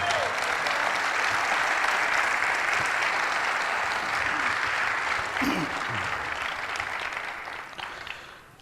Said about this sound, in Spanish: Eso merece bendecir a Dios con un aplauso.